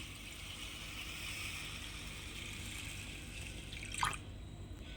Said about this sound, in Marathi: आता ना आपण ह्यामध्ये पाणी टाकूया आणि रात्रभर भिजत ठेवूया